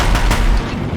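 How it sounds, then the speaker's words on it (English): Gunfire from Deathbringer war machines in Horizon Zero Dawn, a short loud burst of rapid heavy shots with booming low impacts, no voices. "If the Deathbringers keep firing,"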